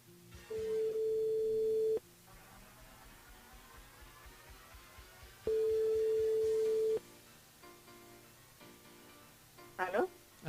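A telephone ringing tone heard while a radio station dials a listener, two long steady beeps with a pause between them. Low voices and background noise sit underneath.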